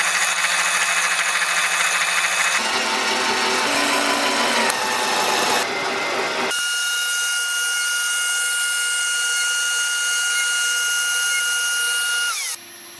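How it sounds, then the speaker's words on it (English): A CNC mill cuts thin plastic covers in a workshop, a steady high-pitched machining whine with shifting cutting tones throughout, sometimes sharper and brighter, ending abruptly near the end. "And I will do this with the CNC mill over here."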